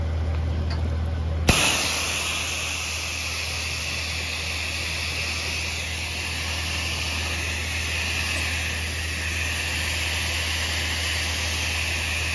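A soft wash sprayer rinses down a high school football stadium, giving off a steady, continuous hiss of spraying water close by, with a sharp knock near the start and no talk.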